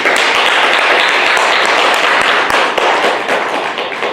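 Audience at a Won Buddhist citizens' meditation hall applauding to welcome a lecturer, a loud, dense burst of many hands clapping close by, sustained throughout with slight fading toward the end.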